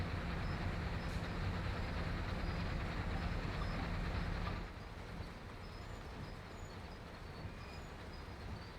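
A diesel-hauled freight train in the Train Sim World 2 game, led by a Norfolk Southern ES44AC locomotive out of a coal mine yard, rolls with a loud, steady rumble that drops to a quieter, continuous roll about halfway through.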